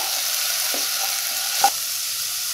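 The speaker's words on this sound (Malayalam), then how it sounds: "ഒരു ഇഞ്ചി പൂണ്ട് 1 സ്പൂൺ അത് ചേർക്കാം. ഉള്ളി ചതച്ച് വെച്ചതൊന്ന് ചേർത്ത് അത് കരിയാതെ ഒന്ന് നല്ലപോലെ പച്ചവാസന പോണ വരെ ഒന്ന് ചൂടാക്കി എടുക്കാം." Ginger-garlic paste and crushed onion frying in a pan for egg manchurian give a steady, even sizzle, with a couple of faint stirring taps and one brief clink near the end.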